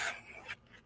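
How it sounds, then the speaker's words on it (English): A knife blade strokes across plain cardboard in trailing-edge passes, two short, soft rasping scrapes close by in a quiet room. "cardboard will work fine. Nothing wrong with plain stropping."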